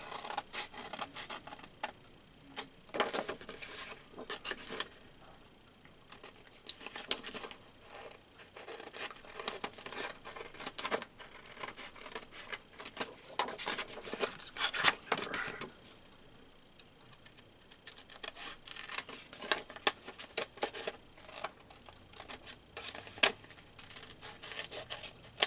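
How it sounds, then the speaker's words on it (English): Teflon scissors snipping and crinkling paper for a collage, with irregular bursts of close, crisp cuts and rustling spread across the whole stretch, no talking. "Use these scissors because that's got glue. These are my Teflon scissors."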